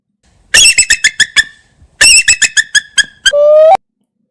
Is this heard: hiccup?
no